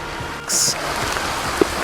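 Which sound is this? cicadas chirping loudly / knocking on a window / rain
rain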